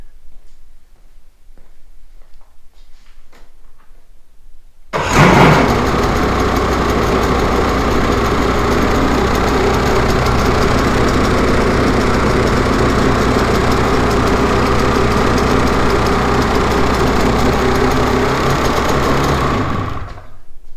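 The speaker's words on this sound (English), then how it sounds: "the sled is running, the engine's running" A snowmobile engine starts abruptly after a few seconds of quiet and runs steadily at a loud, close idle for about fifteen seconds with a constant rumbling drone, then cuts off near the end.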